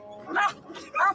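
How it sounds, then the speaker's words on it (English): A dog gives two or three short, sharp barks and yips at a car, close by, with a voice speaking around the barks. "This dog is crazy."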